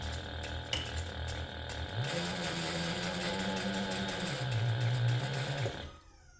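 A sewing machine stitches a leather handbag strap with a 1/8 inch seam allowance, running in a steady mechanical whir with a rapid needle rhythm and a shift in motor pitch midway before stopping, close and alone.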